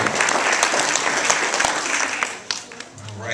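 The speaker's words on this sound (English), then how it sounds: "Let's give them a big round of applause." An audience applauds at a school achievement awards ceremony, steady dense clapping throughout, easing off near the end as a voice begins.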